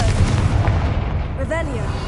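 A Confringo fire spell exploding in the Hogwarts Legacy video game, a deep booming blast with a heavy low rumble that stays loud throughout, a voice briefly audible over it.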